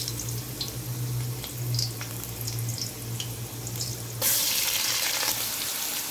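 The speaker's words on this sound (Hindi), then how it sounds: "बस अब हम इसमें कीमा डाल लेंगे।" Minced meat frying in a pan with garlic for spaghetti, a continuous close sizzle with stirring clatter and a low steady hum underneath, then a brighter, louder hiss near the end, no talking.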